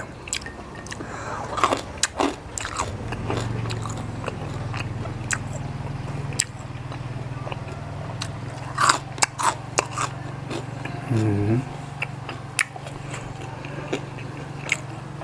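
Crispy pork belly is bitten and chewed close up, with a run of sharp crunches and crackles over a low background hum, plus a brief squishy chewing stretch.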